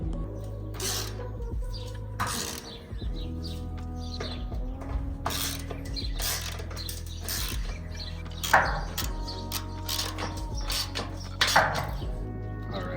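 A ratchet tightens the mounting bolts on a trailer accessory, giving close mechanical clicking and creaking in repeated bursts over a steady low hum, with sharper metallic clanks now and then and no talking.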